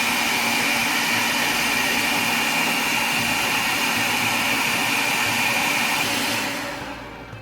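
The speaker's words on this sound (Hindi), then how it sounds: "2 टेबल स्पून वाटर ऐड करेंगे। दोबारा से इसको ब्लेंड करेंगे।" Blender running steadily as it purées hummus with two tablespoons of added water, a loud continuous whir with no talk that cuts off near the end.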